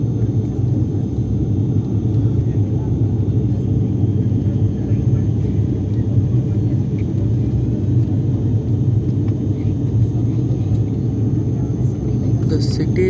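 Steady, loud low drone of a turboprop airliner cabin during a nose-up climb after night takeoff, a continuous rumbling engine hum with faint high whine, no talk heard.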